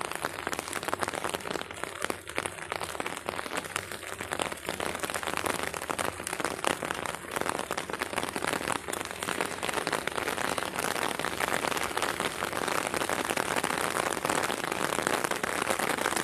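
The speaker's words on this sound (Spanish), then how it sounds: "Ha empezado a llover en Arcabuco." Steady rain falls outdoors in Arcabuco, a dense, even hiss of drops that continues unbroken throughout, with no voices.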